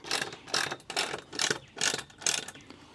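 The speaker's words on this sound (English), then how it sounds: "Ratcheting wrench, I don't know what you call this thing." A ratcheting speed wrench tightens bolts on composite deck boards over metal stair stringers, giving six loud bursts of rapid pawl clicking in a steady back-and-forth rhythm, close up with no talk.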